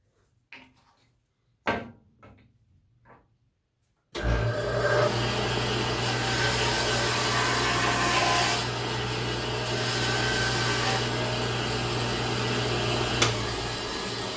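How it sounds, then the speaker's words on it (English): An old bandsaw in a wood shop starts up after a few faint knocks, then runs with a steady loud whirring drone and blade rush that continues to the end. "Let's bring you over to the old bandsaw."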